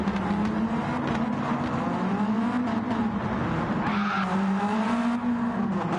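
A race car in a racing video game drifts along a wall, its engine droning steadily while a wavering tire squeal and scraping rise over it, continuous and close throughout.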